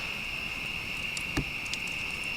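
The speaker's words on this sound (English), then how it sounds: "Just hear the insects now." Insects trill steadily at night at a campsite in the Allegheny National Forest, a continuous high-pitched chorus with one brief nearby knock partway through and no generators running.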